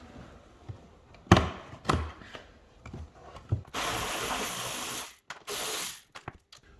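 A socket ratchet clicks in bursts while bolts are undone on a Porsche 718 Boxster S, with sharp metallic knocks of tools and parts between the close, sustained ratcheting runs.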